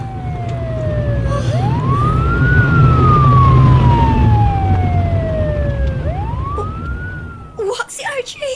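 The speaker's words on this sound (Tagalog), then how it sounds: "Rudy, dunay patrol car nga nigawas gikan sa sud." A patrol car siren wails loudly in long rising and falling sweeps over heavy engine and road rumble, with brief voices at the very end.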